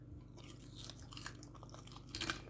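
Close crisp crunching and crackling as a salted cod fish fritter is snapped apart, a brief cluster of dry cracks with no talking.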